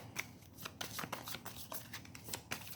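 Tarot cards being shuffled in quick riffling bursts, a steady papery flutter with sharp snaps, close by and without talk.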